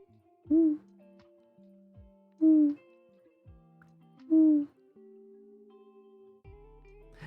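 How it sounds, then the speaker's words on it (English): Owl-like hooting calls, three distinct tonal hoots evenly spaced over several seconds, clear and moderately loud against electronic background tones and quiet music. "There's a bird over there."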